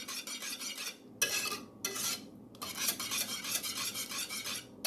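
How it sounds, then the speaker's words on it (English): A spoon stirs butter in a pot until it melts for a banana cream pie filling, making bursts of bright scraping and clinking against the metal, separated by brief pauses, with no voices. "You want to stir it till the butter melts completely."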